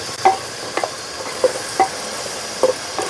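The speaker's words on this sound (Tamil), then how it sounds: "தயிர் போட்டு நல்லா கிளம்பி விட்டுக்கணும்" Yogurt being stirred into vegetable biryani gravy in a pan, a soft sizzle under a few distinct spoon scrapes and clicks spaced about half a second to a second apart, close and without talk.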